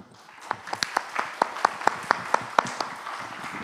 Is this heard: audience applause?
yes